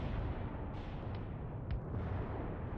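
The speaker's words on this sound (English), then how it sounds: "You can just fire 40 rounds into that formation of Soviet infantry." Mortar rounds pounding a formation of Soviet infantry in a war video game, a dense continuous roar of distant explosions and rumbling impacts with a few brief higher bursts over it, no talking.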